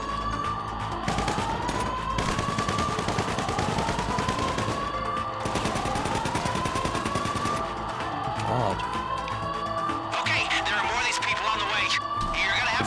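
Repeated gunfire while shooting an enemy in Grand Theft Auto, dense and continuous over siren-like rising tones, vehicle noise and game sounds, with a person talking throughout.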